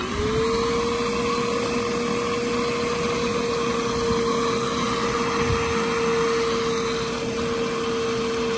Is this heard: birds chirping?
no